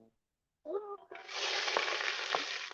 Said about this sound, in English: That's the sound of sloppy joes being started.